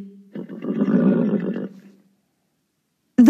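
A zebra's loud, braying whinny rises and shakes for over a second, then trails off into silence before a short burst of sound at the end.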